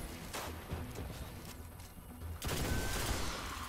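Gunfire from a Hunter's weapons in a solo Destiny Nightfall strike against Fallen enemies, with dense repeated shots that grow louder and heavier in the second half of the burst.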